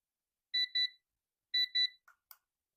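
A colorful kitchen timer's alert at a quieter loudness setting beeps in two paired double-chirps, clean and electronic, followed by a couple of faint clicks, alone in silence.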